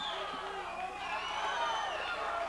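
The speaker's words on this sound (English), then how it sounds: "The crowd is really into it here." A crowd at an amateur middleweight kickboxing fight roars in a continuous wash of mixed voices and shouts, moderately loud and sustained, with individual voices standing out from the din.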